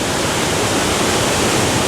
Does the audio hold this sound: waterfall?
yes